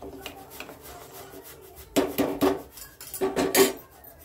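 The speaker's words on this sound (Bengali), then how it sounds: "চিনিটা দিয়ে দিয়েছি, এখন নেড়ে নেব।" A spoon scrapes and knocks around a pot of boiled milk as sugar is stirred in, with bursts of rubbing strokes and clinks, close by, after a quieter start.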